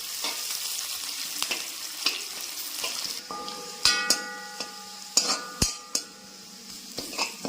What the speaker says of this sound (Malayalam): കുറച്ച് സവാള ഇട്ടൊന്ന് മൂപ്പിച്ചെടുക്കും.